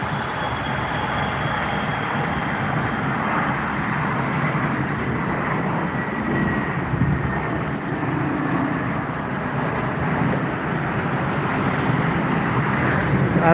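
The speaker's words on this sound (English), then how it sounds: "Airbus A320 from Prague, Czech Republic." A Lufthansa Airbus A320 arriving at Frankfurt Airport from Prague produces a steady, broad engine roar and rumble that stays loud and even throughout, with no talking.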